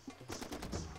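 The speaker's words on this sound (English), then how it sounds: "Where am I hearing these explosions? I mean, these gunshots." Gunfire in the Far Cry 2 video game comes as a quick burst of faint, muffled shots from a distance in a short stretch.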